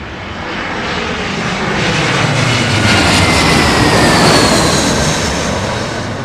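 Jet airliner at London Heathrow Airport, a loud broad roar of engines swelling to a peak and slowly fading as it passes, with no talking.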